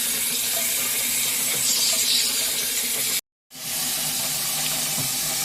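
Water running steadily out of a malfunctioning household water softener while drawing brine, a continuous close hiss that cuts out briefly and then resumes.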